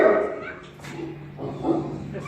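A newborn puppy that cannot suckle gives faint, thin whimpers close by while a person speaks over it.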